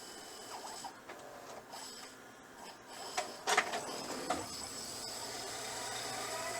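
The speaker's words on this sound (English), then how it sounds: "Yeah, something's scraping inside there." Inside a Panasonic SA-HT820V VCR, the tape mechanism whirs mechanically while rewinding, with intermittent scraping and rubbing noises and a few louder clunks midway, close and fairly quiet.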